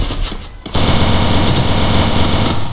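Rapid automatic gunfire from the video game Free Fire, a loud continuous burst after a brief pause, running steadily for about two seconds.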